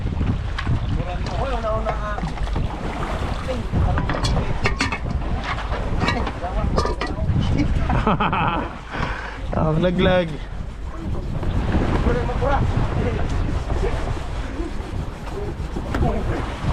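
Strong wind buffets the microphone continuously on a boat at sea with a rumbling boat engine underneath while someone talks throughout.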